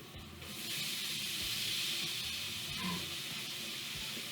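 Beyond Meat sausages sizzle on a flat top grill, a steady broad hiss that swells after the first half second and holds evenly, with no voices.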